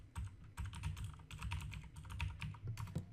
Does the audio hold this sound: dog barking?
no